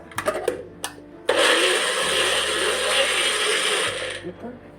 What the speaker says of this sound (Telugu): అలోవెరాని చిన్న మిక్సీలో వేసి గ్రైండ్ చేసుకుంటారు